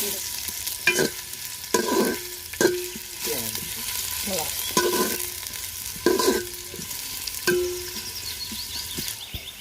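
Chicken and bottle gourd cook in a large pot, with a spoon scraping and stirring in repeated bursts over a soft, steady sizzle; quiet, close and without talk.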